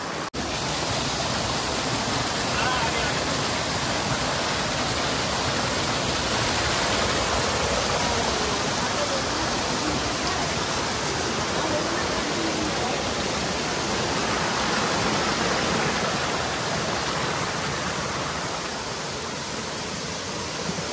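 Waterfall at Khildhar near Dwarahat, a steady, loud, close rush of falling water that fills the whole span without a break and with no voices.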